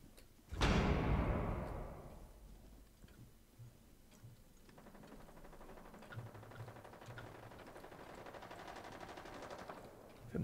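Gunfire in Rainbow Six Siege, shot from above straight down through the floor: one loud sharp blast, then a long run of rapid, evenly spaced shots at moderate level.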